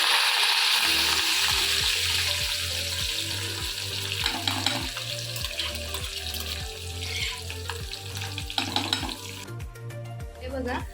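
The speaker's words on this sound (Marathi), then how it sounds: "लसूण आणि कढीपत्ता टाकणार आहे." Garlic and curry leaves sizzle in hot oil for a stuffed brinjal dish, a steady broadband hiss under a rapid regular thumping rhythm, with occasional louder crackles and clinks near the end.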